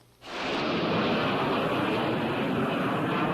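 A P-51 Mustang's engine roar swells in abruptly after a quiet instant and holds as a loud, dense, sustained drone, close and without speech.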